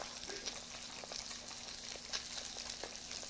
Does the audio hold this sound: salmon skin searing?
yes